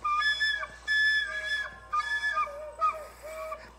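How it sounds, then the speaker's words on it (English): A recorder reaching for low C while a fingertip covers only one of the paired holes produces thin, breathy, whistle-like tones that waver and break. The notes come in several short bursts, close and alone. "if you use your fingertip, you might just cover one of the holes, and that's gonna get you kind of a weird sound"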